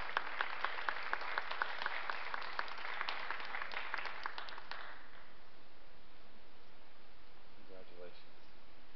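Audience applause at an outdoor award ceremony at the Santa Fe Indian Market, dense clapping for about five seconds that then fades into quiet crowd murmur and a brief voice.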